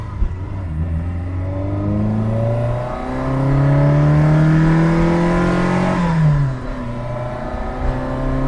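A 1979 Fiat 127 Sport engine revs up steadily while driving, pitch climbing then dropping briefly as it shifts, loud and close throughout.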